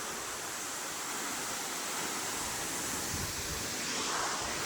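Chautara Chhaga waterfall sprays and pours water nearby, a dense, steady roaring hiss of falling water filling the whole moment without a break, with no voices.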